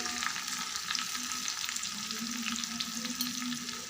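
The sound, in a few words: curry leaves sizzling in hot tempering oil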